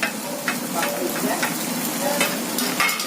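A spatula stirs a potato and carrot masala dosa filling with chilli and spices in a frying pan, giving a steady sizzle broken by repeated scraping strokes, close and moderately loud.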